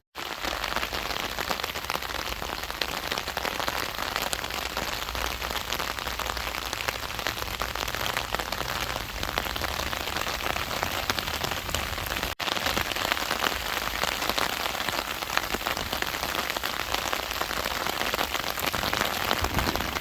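Heavy rain pours steadily over the open roll call area at the Dachau concentration camp memorial north of Munich, a dense, constant hiss of drops striking the ground, loud and unbroken, with no voices.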